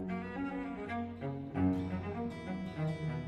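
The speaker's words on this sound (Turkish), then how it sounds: "Bu bir cello. Cellolar böyle ses çıkarır." A cello, a large four-string bowed instrument, plays a slow melodic line of sustained, shifting notes at moderate volume with no other sounds.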